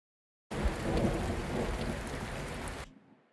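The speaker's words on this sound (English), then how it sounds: "No, this is just rain sounds." Time-stretched rain recording, a dense smeared wash of rainfall with low rumbling swells, starting abruptly after brief silence and cutting off near the end with a fading tail.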